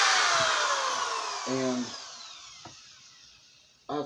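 Power drill boring into a hand-carved wooden figure of a shepherd with lambs, a steady high whine fading gradually, then brief louder bursts as the bit bites, close up with a short spoken word.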